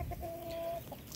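A rooster gives a few soft clucks and a drawn-out, slightly nasal call, faint and somewhat distant against outdoor garden background noise.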